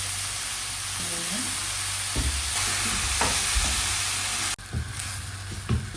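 Bean sprouts hit a hot wok for prawn Hakka noodles, bringing a continuous loud sizzle and hiss with intermittent stirring scrapes and knocks, and a brief drop partway through.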